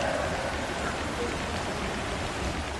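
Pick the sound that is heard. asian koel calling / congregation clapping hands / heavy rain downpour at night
heavy rain downpour at night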